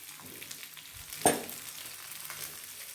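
Radish pieces sautéing in a pan for chutney give a steady soft sizzle, with one sharp stir or scrape clacking near the middle and no voice.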